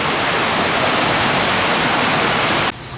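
Multi-level waterfall at a mini golf course, a dense, steady rushing roar of falling water that stays loud and close before abruptly cutting off near the end.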